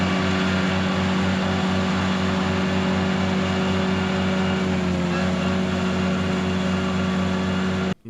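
A John Deere 4020 tractor with a power shift transmission running while mowing a field, a steady droning engine hum with a pulsing low throb, continuous and close, cut off abruptly at the end.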